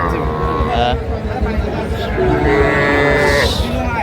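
Young bull calves moo at a busy cattle market in Madaripur, several loud drawn-out calls one after another, close by, over crowd chatter and people talking.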